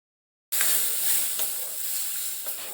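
Dried red chillies and panch phoron hit hot oil for a dal tempering, bursting into a sudden steady sizzle with a few crackles and pops, close and alone.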